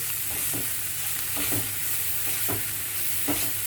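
Spices (salt, Kashmiri red chilli, turmeric, black pepper and fenugreek) are stirred into a frying pan for sewai methi bhaat, giving a steady close sizzle with several soft scraping stirs at a regular pace.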